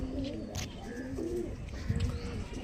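Several Andra Madras pigeons coo in low, rolling calls at a home loft, steady and moderately close, with faint background noise.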